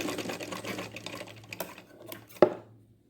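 Brief run of a sewing machine stitching a latkan back rope for a blouse, a soft rapid mechanical whir close by that slows and stops with a final clack.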